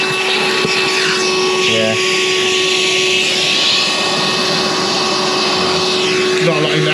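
A wet vacuum draws residual water out of drained-down central heating pipework, a loud steady motor whine with gurgling bursts of suction; someone briefly speaks over it.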